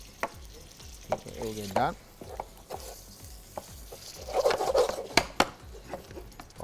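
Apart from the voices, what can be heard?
frying minced meat with garlic and ginger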